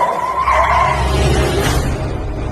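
A car skids to a sudden stop on a mountain road: a loud tire screech runs for about a second over a low rumbling engine, then fades into steady road noise.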